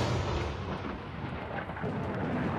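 Thunder from a lightning strike in The Universim game rolls as one deep, loud, steady rumble for the few seconds it lasts, with no voices over it.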